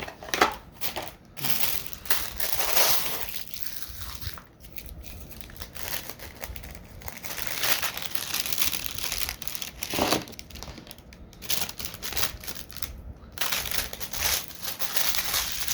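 Plastic and cardboard packaging of a GI Joe Classified Series action figure crinkles and crunches close by during unboxing, a continuous busy rustle with sharp crackles.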